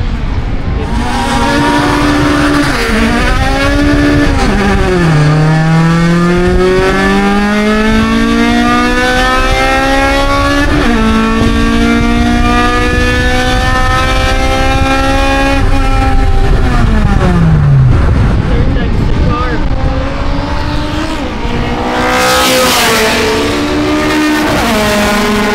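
K24-engined race cars at a drag-racing track, running side by side against an EF race car, scream close by through repeated high-revving gear pulls. Engine pitch climbs and drops sharply at each shift, with loud, continuous exhaust.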